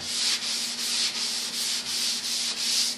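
Steady abrasive sanding hiss with a low motor hum underneath, pulsing in regular back-and-forth strokes, close up and without voices.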